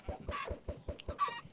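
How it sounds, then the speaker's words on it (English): Chickens cluck in Minecraft, the blocky game fowl giving a quick run of short, near, moderately loud clucks in a steady rhythm, about seven in under two seconds, with no talk over them. "I'm going to stand in here with these chickens."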